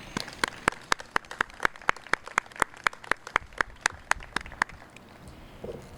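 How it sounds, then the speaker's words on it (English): A small audience gives a round of applause at a Women's History 2021 event: a few people clap in a quick, steady rhythm of sharp, close claps that taper off near the end. "Let's give them a round of applause."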